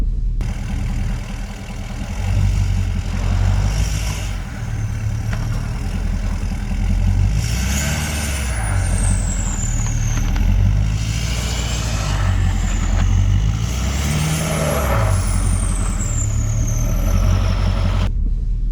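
A pickup truck on BFGoodrich KO3 tires climbs an icy hill in four-wheel drive at -19 degrees, its mid-pitched engine revving and rising in pitch in waves, close and steady throughout.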